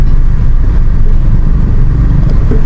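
Loud, steady engine rumble of passing motorcycle traffic close by on a rough Metro Manila road, a continuous low drone without pauses.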